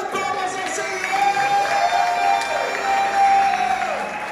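A church congregation welcomes its pastors and leaders with applause and cheering, a diffuse crowd roar mixed with whoops and clapping over a sustained musical tone.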